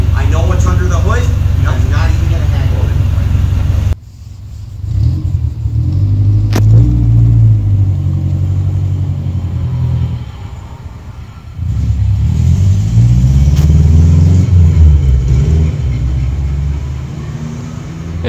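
A used Subaru car's engine rumbles and revs as it pulls away, a low drone rising and swelling in bursts before fading, with people talking nearby.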